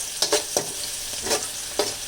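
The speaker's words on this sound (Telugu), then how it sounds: "ఇవి చిల్లీ వేయించినప్పుడు ఏంటంటే దాంట్లో ఉన్న గింజలు ఉంటాయి కదా, అవి ఎగిరి మన మీద పడుతూ ఉంటాయి." Green chillies (mirchi) frying in hot oil for a chuduva snack crackle in a close, lively sizzle, broken by several sharp pops and stirring scrapes.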